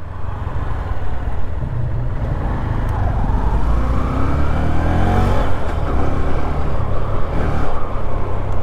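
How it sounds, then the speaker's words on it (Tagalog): Road traffic heard from a motorcycle ride, with a loud, constant low engine and road rumble and passing vehicle sounds close by, no talking. "Matraffic din pala dito."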